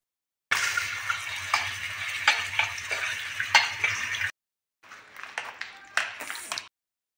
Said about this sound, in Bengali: এই দেখুন বন্ধুরা, আমি এরকম করে ধুয়ে নিচ্ছি।